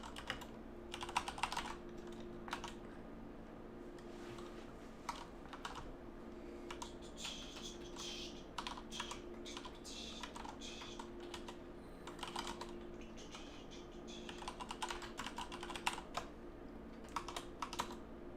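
Computer keyboard typing during a live hacking tournament, with quick irregular bursts of key clicks running steadily for a long stretch, close and moderately quiet, with no talking.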